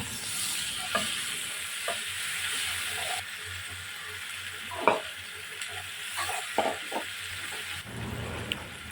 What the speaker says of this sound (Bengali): আমি ফ্রাই প্যানে গরম তেলে কিছু পেঁয়াজ দিয়ে দিলাম, তারপরে রসুন পেস্ট দিয়ে দিলাম, আদা পেস্ট দিয়ে দিলাম 1 চামচ করে